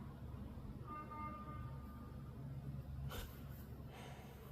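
Faint horn-like honks sound outdoors at night in Wisconsin, one steady tone followed by a couple of brief blasts, over a quiet, hissy background.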